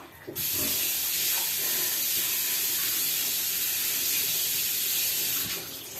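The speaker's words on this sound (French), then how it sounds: "Je vais déjà me laver les mains" Hands being washed under a running kitchen tap, a steady close rush of water that starts and stops abruptly and holds for about five seconds with no talking.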